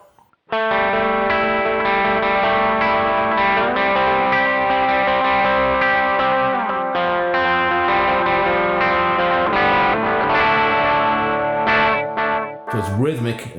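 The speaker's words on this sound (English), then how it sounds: "So delay and reverb together then." An electric guitar runs through a Caline CP80 Ragnarok delay and reverb pedal, playing sustained chords and notes that ring out with repeating echoes and a wash of reverb, loud and alone.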